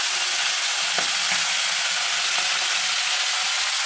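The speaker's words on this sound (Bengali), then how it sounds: "মাছটা মোটামুটি একটু হালকা লাল লাল করেই ভাজবো।" Pomfret fish frying in oil in a pan, a steady broadband sizzle with faint crackles and pops throughout, close and continuous with no talking.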